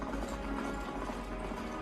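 Horses' hooves drum in a Shadow and Bone Season 2 scene, a fast, steady clatter of several horses running under a low rumbling score, with no talk.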